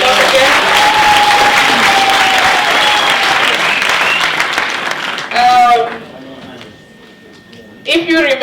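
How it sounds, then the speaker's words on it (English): An audience at a university STEM festival and research symposium in Palapye claps loudly and steadily, the applause fading out partway through before a voice speaks briefly near the end. "Can we give him a round of applause again?"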